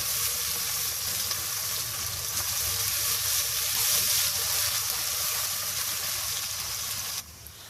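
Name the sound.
chicken roast ingredients sizzling while cooking in a pan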